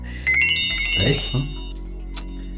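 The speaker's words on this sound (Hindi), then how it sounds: "इस फोन को तू साइलेंट पे नहीं कर सकता क्या?" A phone plays a melodic electronic ringtone, bright and repeating, while people talk nearby over it.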